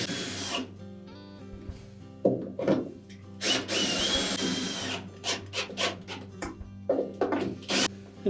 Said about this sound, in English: we'll just thread these shoulder bolts in part way to make sure that they all line up first